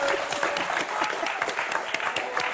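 Studio audience on a French television game show applauding steadily and loudly, with dense clapping filling the whole stretch at an even level.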